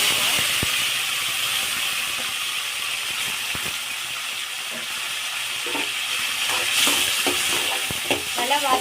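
Onion, tomato and curry leaves sautéing in a pan after a tempering of mustard, cumin and fenugreek seeds, a loud continuous sizzle with scattered spatula scrapes and taps, strongest near the end.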